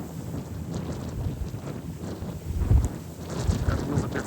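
Strong wind sweeps across an open prairie field, roaring and buffeting steadily against the microphone with low rumbling gusts that swell toward the end.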